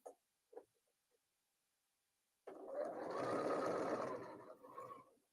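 A sewing machine stitches fabric in one steady, close whirring run of about three seconds after a few brief faint clicks and shuffles in near silence.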